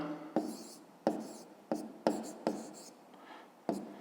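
A pen writing figures on paper for a fifth-grade maths exercise: a handful of quick, sharp scratching strokes with gaps between them, close and quiet, without any speech.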